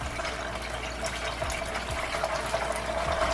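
A roasted poblano chile sits in water in a kitchen, with a steady, fairly faint rush of running or filling water throughout and no voices.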